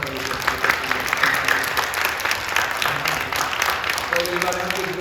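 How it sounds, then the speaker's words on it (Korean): A church congregation at a Friday night prayer service claps warmly for its college youth, a steady spread of applause lasting about five seconds while a voice and faint music sound beneath it. "먼저 뜨겁게 박수 한번 해주시겠습니다"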